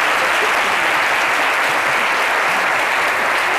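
Studio audience at a television talk show gives loud, sustained applause, a thick unbroken roar of clapping from start to finish.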